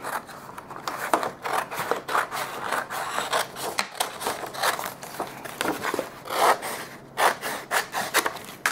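Scissors cut through excess paper while a jewelry box is being made, a steady run of rapid crisp snipping and rasping strokes up close, with no voices.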